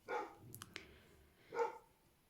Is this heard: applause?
no